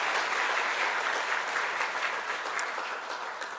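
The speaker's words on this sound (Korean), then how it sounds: "저희 같이 좀 다 같이 우리 감사의 박수 같이 올려드리겠습니다" Sustained congregational applause of thanks for a pastor and his wife at a Korean church revival meeting in Singapore, steady and full-bodied throughout, tapering slightly toward the end.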